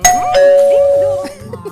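A doorbell chimes loudly with a sustained electronic tone, while a voice talks softly underneath.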